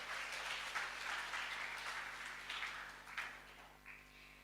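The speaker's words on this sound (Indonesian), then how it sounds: "Kita berikan tepuk tangan untuk kita semua." Audience applause at a Ki Hajar quiz event in Aceh, a steady wash of many hands clapping at moderate distance, fading slightly toward the end with no talk over it.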